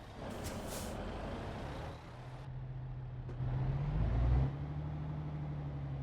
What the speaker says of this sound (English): that truck sounds so nice